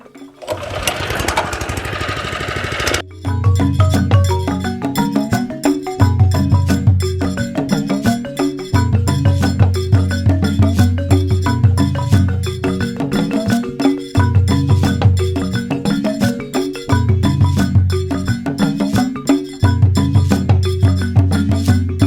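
Lawn mower cutting grass, a loud close engine drone that starts after a brief rustling noise and then runs continuously with rhythmic rises and dips in load.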